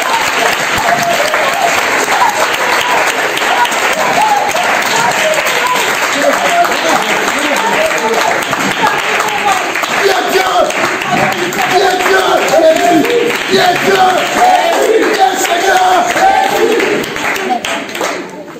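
A church congregation applauds and cheers for Jesus, with loud, steady clapping and crowd voices that hold for the whole stretch and fade a little at the very end.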